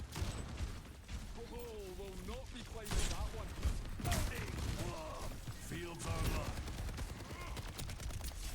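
Gunfire in an Overwatch esports match sounds in rapid bursts and sharp cracks, mixed with game effects, while excited commentators talk over the action.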